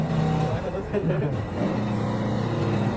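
An ATV engine revs with a loud, close, rumbling drone that rises and falls over several seconds, with a voice talking over it.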